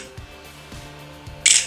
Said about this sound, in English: Very loud shutter sound by the way.